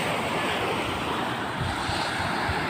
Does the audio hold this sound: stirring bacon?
no